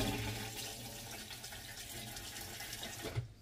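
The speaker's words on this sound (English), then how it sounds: "Gonna go ahead and fill up the toilet." Water running steadily into an RV toilet bowl, a continuous close splashing rush that carries on for a few seconds before cutting off near the end.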